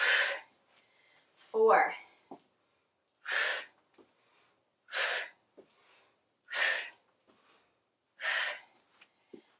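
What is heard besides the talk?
heavy breathing during weight-lifting drop sets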